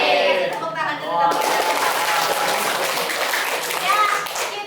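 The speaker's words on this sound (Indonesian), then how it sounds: "Tepuk tangan dulu." A burst of applause fills a school classroom, with many hands clapping together in a dense patter that carries on for several seconds after a brief spoken cue, children's voices mixed in.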